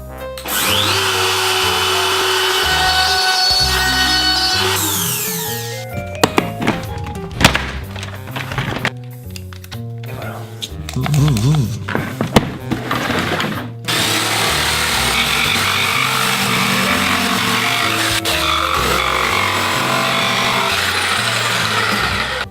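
A power tool cuts a small tab out of a wooden wall bracket for a light. The cutting comes in loud stretches, with stops, scraping and handling noises between them. The tool runs close by, with no talking.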